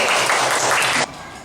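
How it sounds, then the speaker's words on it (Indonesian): Students in a classroom give a short round of applause for a group after a science presentation. The clapping is bright and fairly loud for about a second, then stops abruptly. "Ya, tepuk tangan untuk kelompok"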